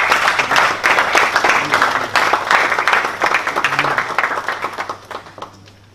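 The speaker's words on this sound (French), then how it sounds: "je vous demande de les applaudir s'il vous plaît" Audience applause at an evening event supporting initiatives for children, loud dense clapping from a crowd that gradually thins into scattered claps and fades out near the end.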